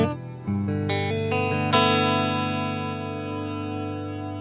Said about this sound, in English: if there's nothing on and I just hold the switch down, it'll just have that reverb on effect while I'm holding the switch and then immediately off